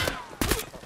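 Gunfire from an Escape From Tarkov match in the rain, a few sharp bursts of shots close by, the loudest cluster partway through, set over a steady wash of rain and ambient noise.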